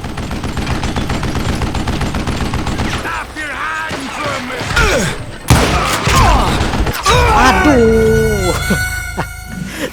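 Gunfire in the Western shooter Call of Juarez Gunslinger, with loud shots and rapid bursts mixed into game music and effects, several sharp blasts standing out over busy background sound.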